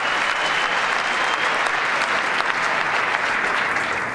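Dense, sustained applause from a large crowd, steady and loud throughout with no pauses.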